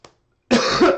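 A person coughs during a trading card pack opening: one small cough, a brief pause, then a louder, harsher, close-up cough.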